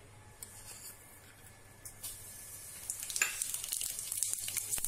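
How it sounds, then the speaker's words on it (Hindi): Cumin seeds sizzle in about one and a half ladles of hot oil, with a soft hiss that builds into a denser, crackling spatter toward the end. "सबसे पहले 1 चम्मच भर के जीरा डालेंगे,"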